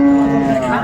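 A Haryana bullock at a cattle market lets out a single short, loud, close moo, a low sustained tone that holds for under a second.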